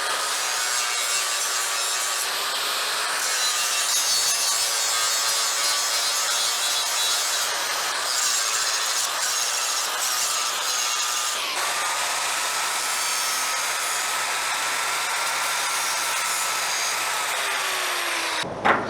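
An angle grinder grinds a worn metal piece before hardfacing, giving a loud continuous abrasive whine with shifting pitch as pressure changes, close and uninterrupted for almost the whole stretch before cutting off at the end.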